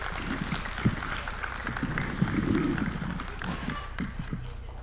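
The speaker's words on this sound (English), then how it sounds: "Another round of applause for His Excellency." An audience applauds a speaker at a formal event in Kenya, with dense, steady clapping and some crowd noise throughout.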